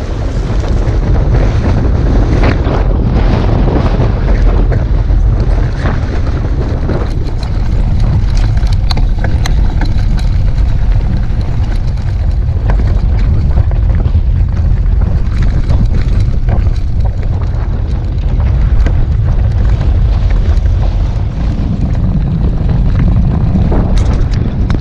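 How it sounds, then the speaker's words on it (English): Strong wind buffets a tent outdoors, a steady loud roaring rush with gusty flapping and no letup. "It's a little windy out. I'm having to hold my tent up."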